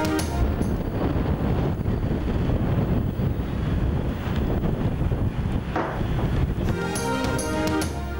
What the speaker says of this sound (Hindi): वक्फे से तेज हवाओं के साथ मूसलाधार बारिश